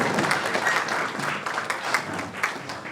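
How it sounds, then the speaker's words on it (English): An audience at a town hall meeting applauds while standing, producing a steady burst of many hands clapping at moderate distance that rises and falls slightly for a few seconds. "Can we clap as we are standing up as we welcome Director Kalema to adjourn this engagement?"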